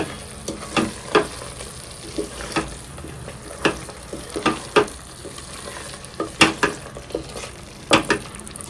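Egg pulusu ingredients mixed with salt and chilli powder in a sizzling pan, a ladle scraping and knocking in irregular strokes over a constant frying hiss, close up and without speech.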